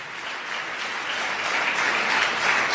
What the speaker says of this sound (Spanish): Dar un aplauso al Señor en esta tarde